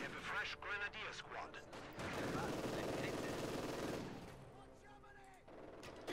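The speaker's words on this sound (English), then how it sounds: "get that MG through that window and let them have it" Machine gun fire from a window position in the Company of Heroes 2 war game, dense rattling bursts layered with explosions and battle noise, loud and sustained, with a voice talking over parts of it.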